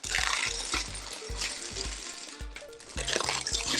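Liquid pours in a concentrated stream with uneven gurgling pulses and trickles, close and fairly loud, with no voices.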